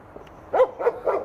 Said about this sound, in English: But these dogs are noisy.